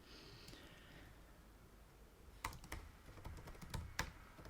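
Typing on a computer keyboard while entering placeholder text into an HTML editor, with a quiet stretch first and then a burst of sharp, close key clicks in an uneven rhythm, no voices.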